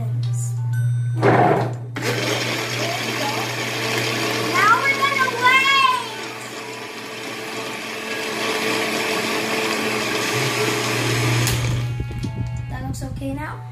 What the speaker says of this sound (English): Now, we put it in this blender. We mix it and then this.